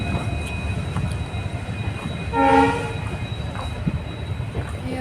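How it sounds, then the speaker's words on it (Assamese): A passenger train passes with a steady, rumbling clatter of wheels on the track, and a short, loud horn blast sounds in the middle before the rumble continues. "পেচেণ্টৰ ট্ৰেইন হয়"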